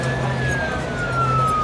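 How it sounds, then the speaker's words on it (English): A police-style emergency siren, isolated on its own layer in Sony SpectraLayers Pro, plays as a steady, loud, slowly falling wail with a low constant hum beneath and nothing else around it. "you can hear now that the siren is now on its own layer"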